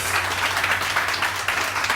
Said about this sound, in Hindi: बहुत सारी तालियां रानी आपा के लिए